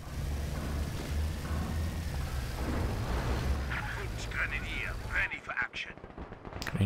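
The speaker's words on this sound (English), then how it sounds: "MG34 on this building now as well." Distant MG34 machine gun bursts and battle noise in Company of Heroes 2, with a low rumble beneath, then sharp crackling shots near the end while a commentator talks over it.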